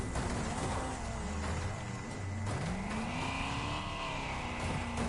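Rusty Rat DLC car from the racing game Wreckfest, its rough, ragged engine droning continuously with pitch sweeps through gear changes, alongside tire squeal and racing noise, loud and close throughout.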